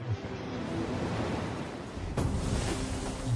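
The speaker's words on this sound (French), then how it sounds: "Les vents créent des vagues." Wind-driven ocean waves give a loud, continuous roar of surf mixed with gusting wind, swelling with a fresh breaking surge about two seconds in.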